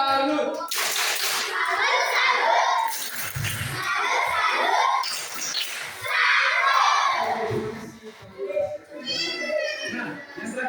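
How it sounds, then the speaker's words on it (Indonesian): Children in a classroom clap their hands together in quick bursts, with excited shouting and chatter mixed in and overlapping the clapping throughout. "Tepuk tangan untuk mereka."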